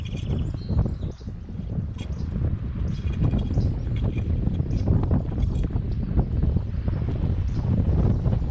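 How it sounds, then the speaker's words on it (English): Strong wind blowing across Ahsub Lake in the Boundary Waters wilderness at a campsite, a steady loud roaring rush with gusty buffeting on the microphone throughout, no voices. "Very windy, very, very windy up here on Ahsub Lake."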